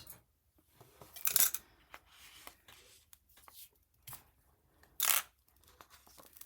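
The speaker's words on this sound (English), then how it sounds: "And I'm going to grab my scissors." Non-stick Tim Holtz scissors snip through a sticky adhesive sheet in a few quiet, separate cuts, with faint rustling and handling noises between them.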